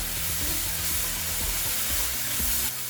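Rice and kimchi with a spoonful of sugar stir-frying in a hot pan, a steady close sizzle with soft scraping and stirring throughout, no talking.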